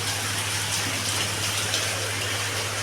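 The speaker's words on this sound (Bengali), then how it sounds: "চরম বৃষ্টি হচ্ছে, চরম। এদিকে বৃষ্টি হচ্ছে" Heavy rain pours down steadily in Raiganj, a dense, continuous hiss of drops with no pauses, joined by a faint low hum underneath and no voices.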